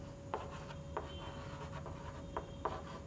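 Writing on a board with soft scratching strokes, a few sharper marks standing out, heard close over a steady hiss and low hum, with no talking.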